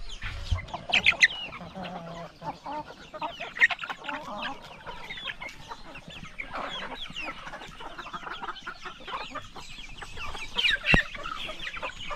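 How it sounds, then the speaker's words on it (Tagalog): Chickens cluck and murmur repeatedly nearby, with scattered louder squawks and rustling over a steady outdoor background. "Yung manok nakikain sa ating mga rabbit."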